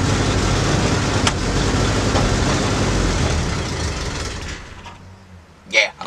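The engine of a 1965 Ford Galaxie runs with a steady rumble, a sharp click early on, then it cuts out and fades to near quiet, followed by a couple of brief knocks.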